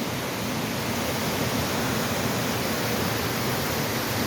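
A waterfall in the woods in Chester, Connecticut, pours as a constant broadband roar of rushing water, steady and fairly loud with no breaks.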